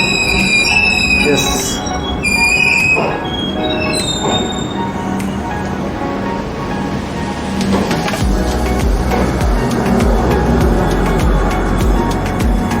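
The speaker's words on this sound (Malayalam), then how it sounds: "ഇതാട്ടോ നമ്മുടെ ട്രെയിൻ." Mangala Express standing at a station platform, with rail clatter, a high metallic squeal and busy platform ambience throughout, and a voice speaking briefly over it.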